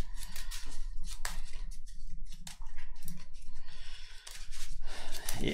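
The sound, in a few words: shuffling a deck of KeyForge cards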